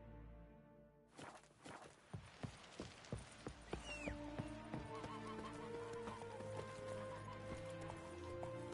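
In The Witcher 3, the horse Roach breaks into motion, with hoofbeats starting as separate clops and quickening into a steady gallop, along with a brief whinny and a game music bed.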